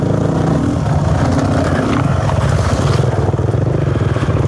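A dirt bike engine revs hard and continuously while climbing a hill on a wilderness trail, loud and close with a steady droning roar and no talking.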